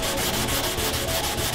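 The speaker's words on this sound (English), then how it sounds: "We did quite a bit more sanding than we anticipated because we had built up so much Bondo" Sanding Bondo filler on a car dashboard: a steady, loud abrasive rasping with a quick back-and-forth rhythm, close up and continuous, with no talking.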